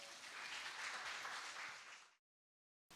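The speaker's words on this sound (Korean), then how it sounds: "여러분 따뜻한 박수로 환영 부탁드리겠습니다." An audience at an ESG conference welcomes a speaker to the stage with steady, even applause that lasts about two seconds and then stops abruptly into silence.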